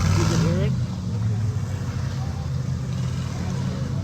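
A race car engine at the Cleetus McFarland 2.4 Hours of Lemullets runs rough, missing and losing power, with a loud low drone that is steady and close, without any talk.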